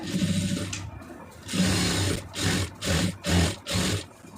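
Close and loud, a sewing machine stitches a churidar seam in a longer run followed by several short, rapid bursts with brief pauses between them.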